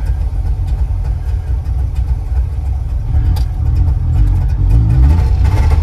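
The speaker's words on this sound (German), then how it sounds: "Und dann springt er sofort an." The old small engine of a vintage Framo vehicle, built by IFA VEB Barkas-Werke Hainichen, starts and runs with a low, rough, chugging idle close by, growing slightly louder and fuller toward the end.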